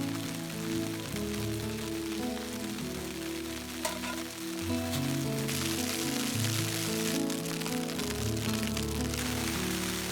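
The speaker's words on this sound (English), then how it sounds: "It looks like it's more ice pellets right now." Rain mixed with ice pellets falls at a winter campsite near freezing, making a steady patter on surfaces with a low background rumble and no talking.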